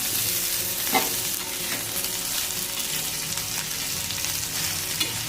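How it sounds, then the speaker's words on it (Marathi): Bombil (Bombay duck fish) frying in oil in a pan, a close, steady sizzle and crackle with occasional pops and stirring sounds. "आपल्याला हे बोंबील थोडंसं भाजून घ्यायचे"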